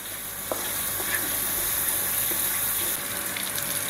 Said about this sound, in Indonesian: Bikin nasi goreng praktis ala anak kos ya teman-teman